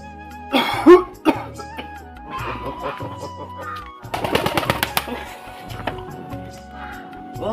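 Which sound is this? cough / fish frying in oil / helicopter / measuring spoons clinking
cough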